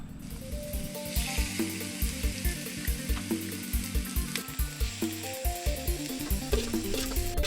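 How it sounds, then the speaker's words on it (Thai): Steady sizzling of pork frying on a hot tabletop grill (Thai moo kratha), with bouncy music playing loudly over it throughout. "เบิ่งหมูกระทะเขายู่ครับ"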